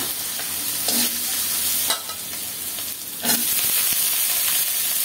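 Chopped onions and green chillies fry steadily in hot oil, a loud continuous sizzle with a few stirring scrapes along the way and no voices.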